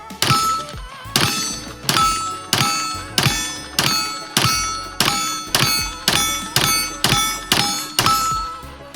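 A Springfield Armory Echelon 4.0C pistol fires thirteen sharp shots at an even, steady pace, each crack close and loud with a short ringing tail.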